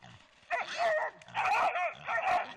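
A red female dog barking in three drawn-out, howling barks in quick succession, close and loud with brief pauses between them.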